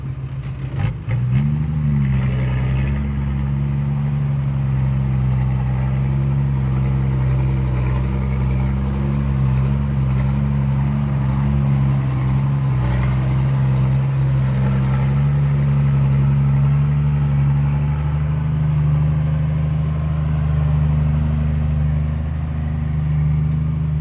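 A car engine with a single exhaust pipe idles close by in hot outdoor conditions, giving a loud, steady low rumble with a brief blip near the start, then an even, unbroken drone with no talk.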